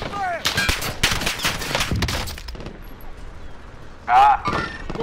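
Bursts of automatic gunfire in Call of Duty Warzone, featuring the Cold War FFAR rifle: rapid, loud volleys in the first half, then a short sharp burst later, with game voice callouts over the action.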